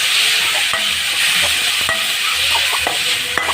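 Tomatoes sautéing in a pan for a Tamil okra tamarind curry (vendakkai puli kuzhambu), a steady close sizzle and fry hiss with a few soft stirring scrapes and clicks throughout, no talking.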